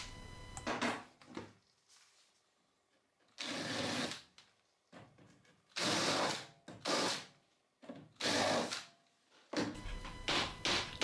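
An 8.5 mm bit widens a pilot hole drilled for a tee nut in a milling fence for a Bosch GTS 10 XC table saw, heard as several separate close bursts of drilling with quiet gaps between them.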